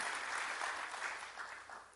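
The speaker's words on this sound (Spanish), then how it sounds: "Démosle un aplauso al Señor" A church congregation at a conference applauds in praise, a dense, steady wash of clapping from a large crowd that swells slightly and then eases toward the end.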